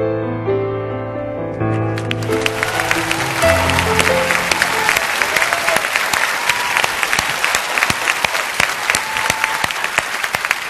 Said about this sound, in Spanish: La mejor manera de despedir a una grande, a la China Zorrilla, es con un aplauso